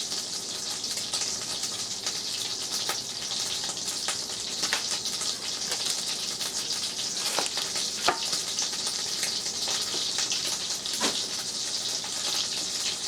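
Venison backstrap steaks fry in a pan for breakfast, giving a steady, close, broadband sizzle with scattered pops and crackles throughout and no talking.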